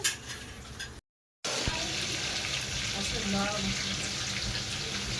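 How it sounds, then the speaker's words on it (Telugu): Fish curry (chepala pulusu) bubbling in a pot, a dense, steady seething hiss with brief bubbling pops, close by, broken by a short gap, with a voice faintly underneath. "ఈ చేపల పులుసు అయితే మసులుతుంది చూడండి"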